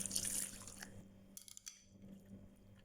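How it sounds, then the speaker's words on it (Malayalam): A cup of water pours into lentils mixed with drumstick leaves, a brief splashing gush followed by a few faint drips and light clinks, quiet and close. "1 കപ്പ് വെള്ളം ഒഴിച്ചു കൊടുക്കുന്നു"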